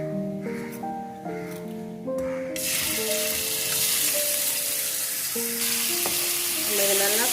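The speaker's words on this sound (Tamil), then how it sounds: "இந்த சிக்கனை வந்து நம்ம ஃப்ரை பண்ணுறதுக்கு நான் எண்ணெயை காய வச்சுட்டேன். இந்த சிக்கனை வந்து நம்ம இதில் போட்டுடலாம்." Chicken pieces for an egg roll drop into hot oil, and the quiet pan swells into a loud, steady crackling sizzle that carries on to the end over a soft background hum.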